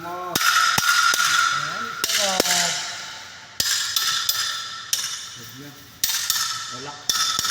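A hammer strikes metal in a series of sharp, ringing blows, some in quick pairs and others spaced out, close by, with people talking between the impacts.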